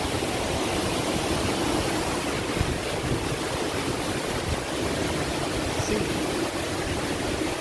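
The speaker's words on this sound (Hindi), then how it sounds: "ये है वाटरफॉल, जिसके लिए आज बहुत मेहनत करी, बहुत चल के आए।" A waterfall near Manali roars as a constant broadband rush of falling water, steady and fairly close throughout, with no voices over it.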